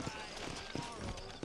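Horse hooves clip-clop in the Western video game Red Dead Redemption, a few spaced hoof thuds at a slow walking pace, soft and low under a steady background, with no talking over them.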